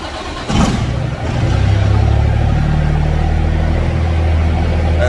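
An ISX truck engine, just back from a fuel pump repair, catches and settles into a loud, steady, rumbling run close by, with no talking over it.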